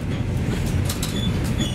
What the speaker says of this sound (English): the train for most of the time runs at its top speed